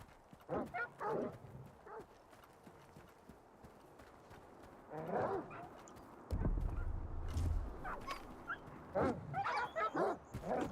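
Dogs in the video game S.T.A.L.K.E.R. 2 yipping and barking in short bursts, moderately loud, mixed with footstep-like clatter and some game noise.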